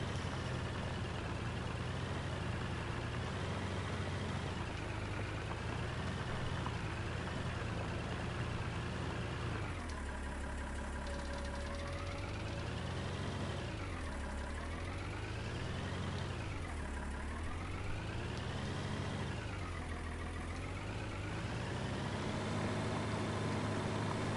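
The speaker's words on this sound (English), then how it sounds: "I really do like the way this tractor sounds." Tractor engine in Farming Simulator 19 on the Erlengrat alpine map, a steady loud drone that rises and falls in pitch several times through the middle as the throttle changes, running continuously without talk.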